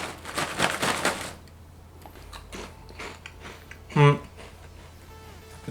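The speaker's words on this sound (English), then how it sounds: "Like you're biting into air a little bit, so it's not that crunchy." A leek-flavored potato chip with an airy, not very crunchy texture is bitten into once, giving a short close crisp crunch, with quieter rustling and mouth sounds around it.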